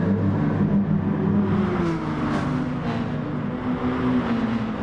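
Race cars at Fuji in Gran Turismo Sport, including a Subaru and an Aston Martin, drone at steady engine pitch with a whirring tone, a continuous loud mechanical hum with slight pitch shifts.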